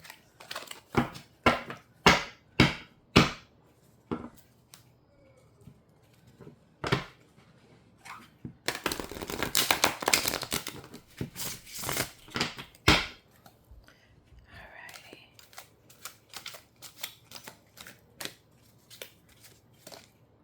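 Crisp riffling and snapping of tarot cards, several quick bursts, then a longer dense flurry of shuffling, close up with no talking.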